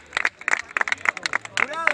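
Crowd at a freestyle rap battle final in Lima, Peru, clapping in quick sharp bursts over lively chatter and shouts, close and fairly loud.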